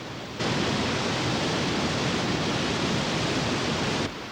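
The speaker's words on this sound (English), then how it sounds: "let's take a look and walk behind the waterfall" A waterfall roars as a steady, broad rush of falling water that starts abruptly and cuts off after a few seconds, loud and close, with no talk.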